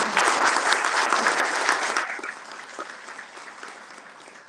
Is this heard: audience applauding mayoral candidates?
yes